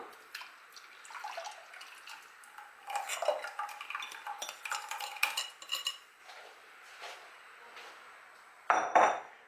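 Lemon tart filling mixture, made with squeezed lemon juice, stirred in a saucepan over medium heat, giving close, irregular metallic scrapes and clinks of a utensil against the pan, with a louder clatter at the end.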